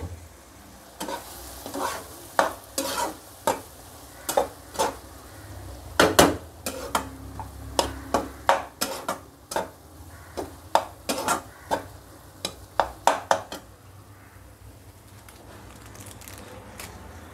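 Winter vegetables cook in a sizzling pan, with a run of sharp, rapid spatula scrapes and knocks against the metal that stop near the end, leaving a softer hiss; close and without voices.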